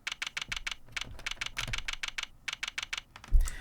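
Rapid computer keyboard typing clicks in quick bursts with short pauses, ending with a duller thump as the keyboard is bumped.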